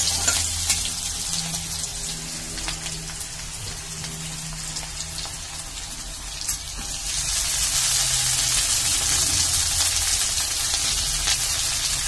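Vegetables sizzle and crackle steadily in hot oil in a home kitchen pan, a dense continuous fry that swells louder and brighter about two-thirds of the way through; no one speaks.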